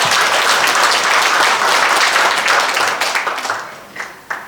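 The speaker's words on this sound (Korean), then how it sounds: "여러분 큰 박수로 많이 해주시기 바랍니다." At a Busan association's 13th anniversary ceremony, a hall audience claps loudly and densely, then thins into scattered trailing claps.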